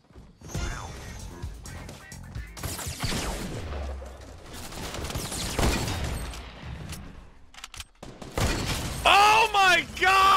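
Hunting rifle shots and other loud cracks and crashes burst out during a Fortnite match, sharp and close, mixed with excited shouting from a player.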